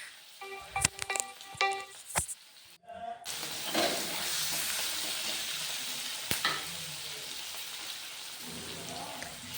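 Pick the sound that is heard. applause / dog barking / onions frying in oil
onions frying in oil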